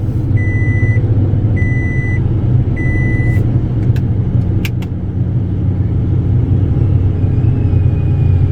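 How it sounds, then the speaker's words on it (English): Three evenly spaced electronic reversing beeps from a Toyota Tundra pickup truck, each about half a second long, sounding over a steady, loud engine rumble that continues after they stop. "let me put the truck on reverse"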